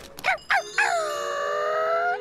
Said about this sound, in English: Holy dog, it was just a puppy.